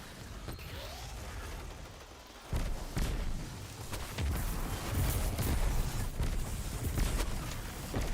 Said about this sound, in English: whenever I killed him with that punch, it created an explosion